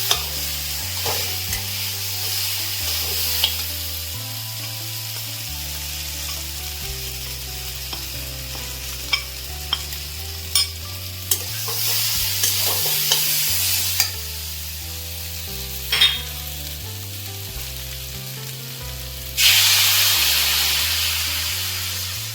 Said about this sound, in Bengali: এখন অল্প জল দিয়ে আমি আর অল্প ভেজে নেব, তারপর জল দিয়ে দেবো